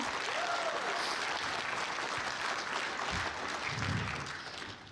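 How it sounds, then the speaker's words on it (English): A convention panel audience applauds steadily in a hall, a sustained wash of many hands clapping that stays even, then tapers slightly near the end, with faint voices underneath. "Everybody give her a round of applause."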